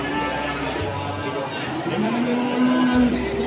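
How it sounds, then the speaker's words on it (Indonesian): A cow at a cattle market in Ambarawa gives a low, drawn-out moo that rises near the end, heard outdoors beneath a person speaking nearby. "Dengar-dengar sapi deh."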